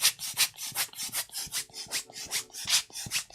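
Cleaning dust off a vinyl record before playing it, a soft rhythmic brushing rub repeated about a dozen times in quick even strokes, close and fairly quiet with no talking.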